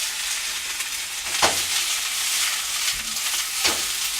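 Garlic fries in a hot pan while being tossed about, giving a steady bright sizzle broken by a few brief scraping stirs and shakes, close up and with no voices.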